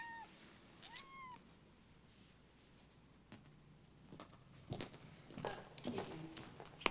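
A cat gives a couple of short, faint meows near the start, followed by soft rustling and light taps in a quiet room.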